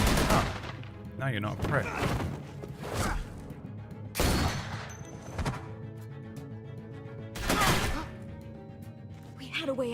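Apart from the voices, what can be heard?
gunfire in the video game The Walking Dead: Telltale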